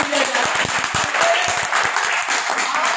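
A welcoming round of applause from an audience, steady dense clapping with sharp individual claps standing out, continuous for about three seconds.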